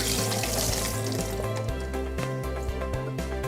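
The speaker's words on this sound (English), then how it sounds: "and I'm just going to drain the water out." Water draining from a batch of soaked cashews, a steady close pouring and splashing rush running continuously, loud and without talk.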